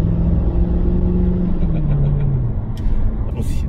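A BMW E39 540 with its V8 engine revs hard inside a road tunnel, a loud, close, booming note climbing in pitch and echoing off the walls for a few seconds.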